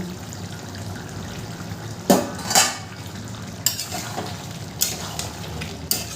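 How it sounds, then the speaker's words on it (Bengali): A lid is lifted off a pot of simmering Bengali jackfruit kalia with a sharp metallic clank, followed by a few lighter clinks and scrapes over a soft, steady sizzle. "2 মিনিট পর ঢাকনাটা আমি তুলে নেব।"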